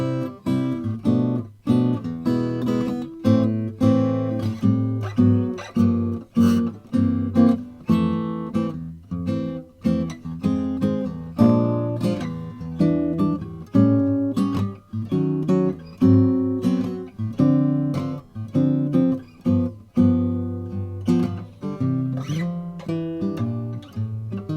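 Solo guitar strumming through a set of chord changes, a steady rhythmic sequence of clear, close chords with each strum ringing briefly before the next, played alone without talk.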